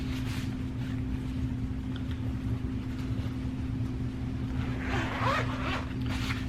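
A zipper is drawn open on a tool-carrying satchel for a car diagnostic reset tool, giving a short, close rasping burst near the end over a steady low background hum.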